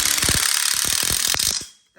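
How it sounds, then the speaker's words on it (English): A power driver sinks self-drilling hex head screws into a steel tube frame for an outdoor kitchen module, giving a loud, continuous high-pitched whine with rapid chattering pulses that cuts off abruptly near the end. "take our self-drilling screws, hex head screws, and we keep it nice and tight"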